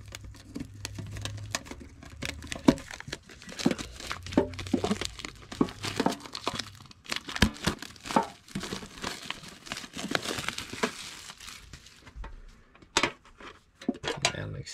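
Yu-Gi-Oh and Dragonball Super trading card packs being cut and torn open, with close, quiet crinkling and rustling of foil wrappers, small crackles and handling taps that go on steadily, plus a few low murmurs.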